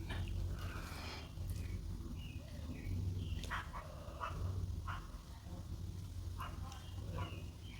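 Several sharp dog barks ring out at intervals over a steady low hum of background noise, moderately close.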